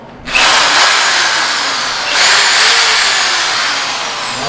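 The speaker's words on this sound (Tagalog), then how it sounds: "ito yung impact drill na Inco" An INGCO 650W impact drill runs loud and close with a steady high-pitched whine, spinning up sharply at the start and revving up again about two seconds later, then holding. No one speaks.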